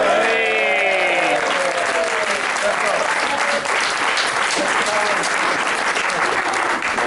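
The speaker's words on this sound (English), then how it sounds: "So a round of applause for them." Wedding guests applaud steadily throughout, with sustained clapping mixed with a few voices in the crowd.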